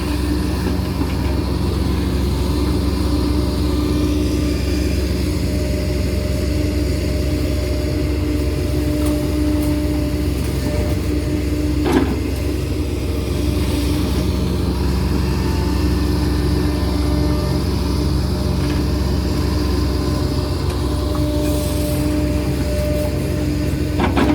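A KOBELCO excavator engine runs steadily up close, a loud continuous drone with a low rumble and faint mechanical clanks now and then.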